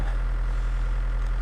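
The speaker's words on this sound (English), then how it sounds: "I've got the tractor warming up." A tractor engine warming up at idle on a snowy property, a steady low diesel rumble holding an even, continuous drone close by with no other sounds.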